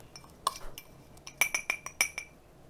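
A metal spoon clinks against a bowl while a teaspoon of salt is added to a cassava mochi batter, a few scattered taps followed by a quick cluster of four or five bright clinks, close and fairly quiet, with no talking.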